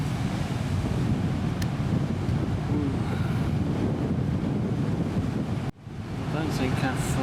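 Strong wind blows across a ship's deck near Antarctica in rough seas, making a loud, steady roar that fills the whole clip. The roar breaks off briefly near the end, then swells back.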